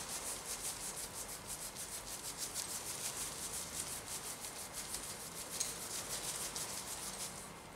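Rust spots are rubbed off the chrome of a Yamaha cymbal boom stand in quick, steady back-and-forth strokes, a close, rhythmic scratchy rubbing heard alone.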